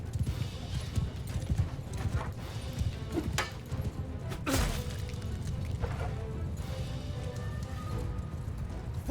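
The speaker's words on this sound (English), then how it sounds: "Cavalry! Horsemen! Move!" A cavalry charge in Mount & Blade II Bannerlord: many horses gallop together in a dense, continuous rumble of hoofbeats, with occasional crashes and whinnies mixed into the loud battle din.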